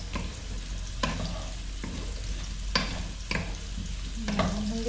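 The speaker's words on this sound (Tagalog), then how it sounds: "Pinirito ko na yung patatas tsaka yung carrots." Potatoes and carrots fry in a pan with a steady close sizzle, broken by intermittent scraping and clacking of a utensil stirring, no talking.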